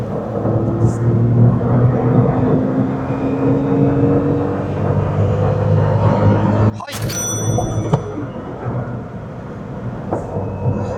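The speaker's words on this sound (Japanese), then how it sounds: "じゃあ高速道路来ましたので、70キロ100キロやっていきたいと思います。" A 2024 Daihatsu Copen GR Sport accelerates on a highway from 70 to 100 km/h, a loud, rising engine and road roar that breaks briefly with a sharp shift before droning on.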